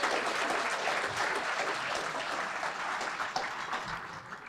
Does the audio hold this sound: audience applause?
yes